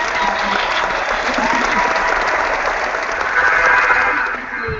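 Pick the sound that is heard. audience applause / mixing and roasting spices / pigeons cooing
audience applause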